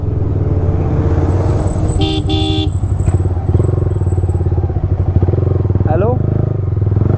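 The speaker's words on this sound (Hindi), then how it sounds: "मैं कह रहा हूँ यहाँ पहुँचते ही तो सुपर बाइक्स की आवाज़ अपने आप आने लगती है कानों में।" Super bike engines drone and rev continuously at Ambience Mall, loud and close, with a horn tooting briefly and voices mixing into the steady motor roar.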